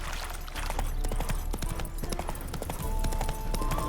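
Horse hooves in The Witcher game clop in a steady, close rhythm of clear repeated strikes, with faint ambient game sound beneath.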